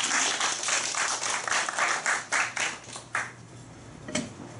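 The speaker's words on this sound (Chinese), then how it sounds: "好，掌声欢迎。" Audience applause at a Taichung Jiaodian Vol. 14 two-minute self-introduction event, a run of close, fairly loud clapping bursts that pulse unevenly and fade toward the end, with no talk over it.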